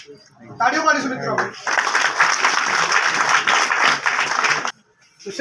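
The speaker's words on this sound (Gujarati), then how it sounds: "તાળીઓ પાડીશું મિત્રો" Crowd at a political rally bursts into sustained applause and cheering after a voice leads chants, clapping thick and loud for several seconds before cutting off abruptly.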